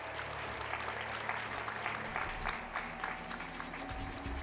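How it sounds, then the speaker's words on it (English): An audience claps steadily at the ESA Summer 2023 speedrun event during a TrackMania United Forever run, a continuous patter of many hands at moderate distance with faint game sounds beneath. "I like how I hear clapping now"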